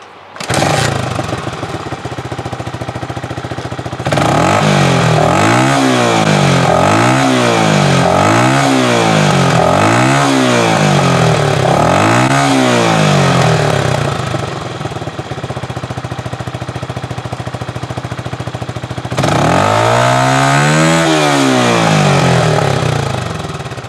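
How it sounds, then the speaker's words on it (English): A Honda motorcycle engine fitted with a homemade muffler made from scrap fires up and runs loud and close, with a rough idle broken by repeated throttle blips rising and falling in pitch, then a final burst of revving. "we'll fire her up for the first time"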